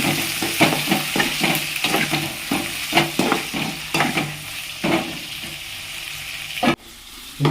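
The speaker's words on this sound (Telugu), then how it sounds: "తర్వాత అదే ఆయిల్లో కొన్ని ఆనియన్స్, పచ్చిమిర్చి, టమాటా ముక్కల్ని వేసుకొని ఫ్రై చేసుకోవాలి." Onions, green chillies and tomato pieces fry in hot oil for paneer biryani, a steady sizzle broken by repeated scraping stirs that fall quiet near the end before one last clatter.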